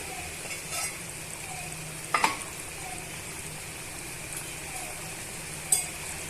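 Ivy gourd masala gravy simmers in a pan with a low, steady bubbling and a faint sizzle. Two brief louder clinks of a utensil stand out near the middle and near the end.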